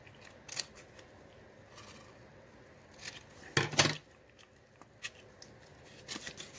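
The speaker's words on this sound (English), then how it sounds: "you could go ahead and cut those ears" Scissors snip through folded origami paper to cut out a pair of ears, a few sharp close clicks spaced unevenly, one louder double snip in the middle, in a quiet room.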